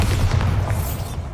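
A Bombarda spell explodes in the Hogwarts Legacy video game, a short, heavy low boom with a rumbling tail, loud and alone.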